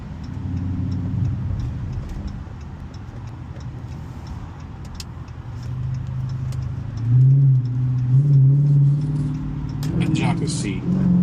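A Hemi 5.7-litre V8 revs on a night drive, its low engine drone rising in a few swelling pulls, with the ticking of an indicator and someone talking over it.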